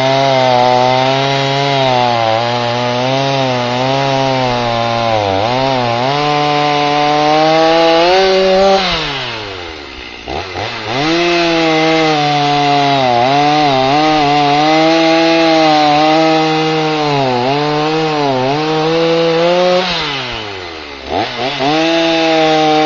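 A chainsaw runs loud and close, its engine pitch rising and falling as it bogs into wood and revs back up through several cuts.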